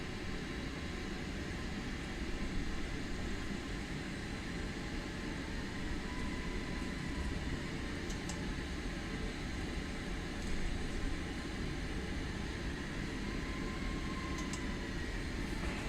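Airplane engines in a flight simulator game run as a steady, dense roar on runway 2-4, loud and unbroken for the whole stretch with no talking over it.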